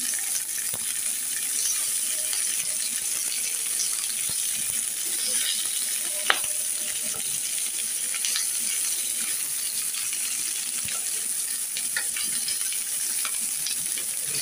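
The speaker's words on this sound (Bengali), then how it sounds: "পোড়া পোড়া করে ভেজে নিচ্ছি।" Food fries in a pan with a constant crackling sizzle, with occasional clinks and scraping of stirring over the steady hiss.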